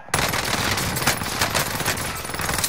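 Rapid automatic gunfire in a multiplayer shooter video game, dense bursts of shots rattling continuously and fairly loud, with no talk over it.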